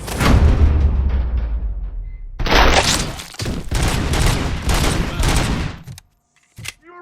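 Rapid bursts of heavy gunfire from RoboCop's pistol in RoboCop: Rogue City, loud and sustained for several seconds with brief gaps, ending in a short silence and a final sharp report.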